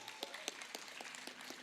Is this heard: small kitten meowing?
no